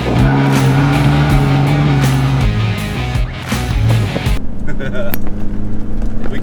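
A 2021 Toyota Hilux engine drones steadily and loudly while driving off-road on sand, with the revs dipping and rising, and people talk over it inside the cabin.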